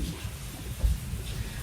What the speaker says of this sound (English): We've got a rainstorm